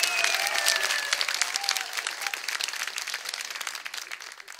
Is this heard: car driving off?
no